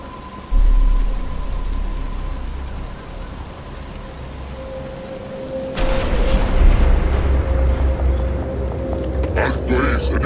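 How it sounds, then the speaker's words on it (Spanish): Rain falls steadily in Batman: Arkham Asylum, a broad wash of patter that swells louder and denser partway through, with low rumbling underneath and game voices and tones mixed in. "Pero está empezando a llover"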